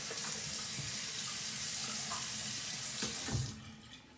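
Running tap water pours steadily into a sink while a razor is rinsed under it, with a few faint clinks, and the flow is shut off near the end.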